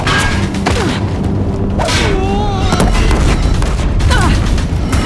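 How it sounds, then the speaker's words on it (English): Deathbringer war machines firing in Horizon Zero Dawn during a bridge battle: heavy booming blasts and thuds over a constant loud battle din, with whistling, warbling projectile tones cutting through. "If the Deathbringers keep firing, this bridge will go."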